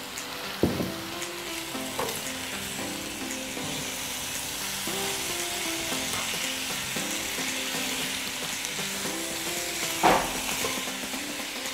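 Tofu pieces stirred into a simmering curry in a pan, giving a steady close sizzle with soft stirring clatter and a couple of brief louder scrapes or splashes near the start and toward the end.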